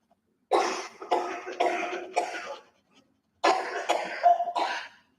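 Two bursts of harsh, repeated coughing close by, four coughs then a pause and three more.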